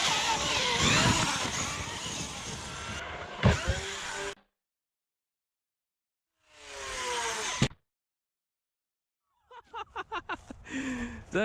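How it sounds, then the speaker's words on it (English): A Traxxas X-Maxx RC monster truck, lowered and widened, whines loudly and then lands roughly after a jump with a sharp impact. Bursts of electric motor revving are separated by silent gaps, and a rapid rattling series of clatters comes near the end. "Dang, that was a rough landing."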